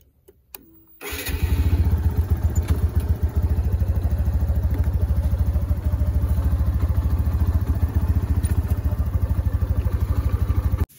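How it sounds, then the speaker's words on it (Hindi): A motorcycle starts after a brief click and settles into a loud, close, steady chugging idle with a fast regular pulse that continues for several seconds. "ये है मेरी बाइक, तो इसे हम स्टार्ट करके"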